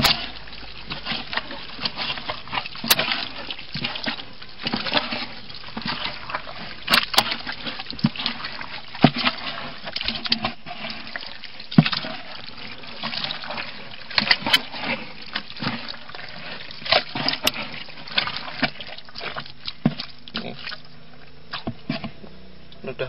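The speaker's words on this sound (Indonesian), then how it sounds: "Kita aduk-aduk lagi ya, sampai merata." Water mixture being stirred in a container for a homemade EM4 soil decomposer, continuous sloshing and splashing with irregular louder swishes, close by and fairly loud, without talk.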